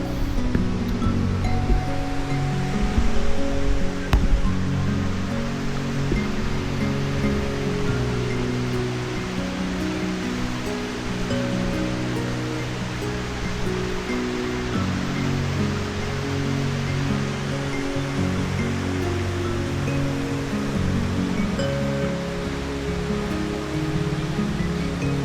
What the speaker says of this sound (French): je vous montre la petite rivière quand même